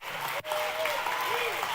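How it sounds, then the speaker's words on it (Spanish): Church congregation applauding during a Spanish-language sermon, a steady wash of clapping throughout with a brief dip near the start and a few voices mixed in. "Denle un aplauso a Dios"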